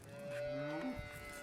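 A cow gives a single close, full moo that swells and fades within about a second, with no other sounds around it.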